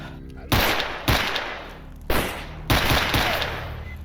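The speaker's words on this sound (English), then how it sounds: "They are just shooting at me with pistols." Pistol gunfire in a video game, four loud sharp shots spaced roughly half a second to a second apart, each trailing into a reverberant decay over a steady background hum.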